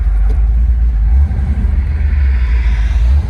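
A 1970 Plymouth Cuda Hemi with a five-speed runs with a steady, loud low rumble and slight fluctuations in the idle, heard close up with no talking.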